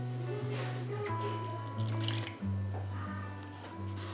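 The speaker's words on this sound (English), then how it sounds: "I'm gonna go ahead and add in the 1 cup of milk" Milk pours into a mixing bowl of chocolate cake batter, a soft gurgling trickle that plays quietly against a steady tonal hum from a kettle heating nearby.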